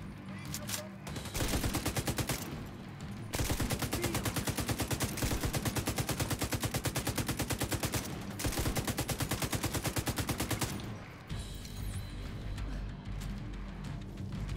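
Sustained bursts of M249 machine gun fire in The Division 2, long rapid automatic strings broken by brief pauses, loud and close, with game ambience between bursts.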